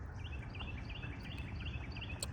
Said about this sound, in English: Yeah, there's some birds chirping around.